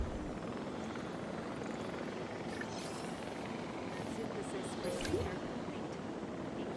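A helicopter airlifts an asset in the park-building game Jurassic World Evolution 3, giving off a steady rotor whir and a broad mechanical drone that stays even throughout, with a brief lift in loudness near the end.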